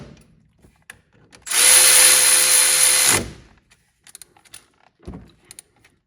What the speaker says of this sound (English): line up the bolts for the pins, and then tighten these on down